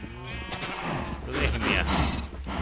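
Minecraft sheep bleat in a bright, wavering voice, repeated a couple of times over a steady game background with faint talk mixed in.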